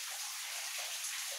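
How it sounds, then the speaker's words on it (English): Underground waterfall deep in an old mine, a continuous close rushing gush of falling water with no voices. "Another waterfall."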